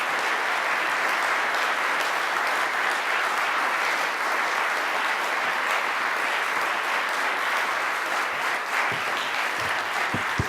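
A full audience applauds steadily to welcome Michael Bloomberg at a higher education event, dense and loud clapping that holds for the whole stretch with no talk over it.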